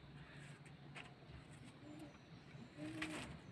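Pigeons at a racing loft give a couple of soft, low coos, faint and somewhat distant against steady background noise.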